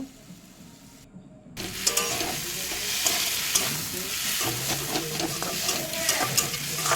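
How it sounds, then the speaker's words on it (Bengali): A spice paste frying with potatoes and okra in a pan, a steady close sizzle with scraping stirs breaking in repeatedly; quieter at first, then louder and continuous. "বাটা মশলাটা তো দিয়ে ভালো করে কষে নেব"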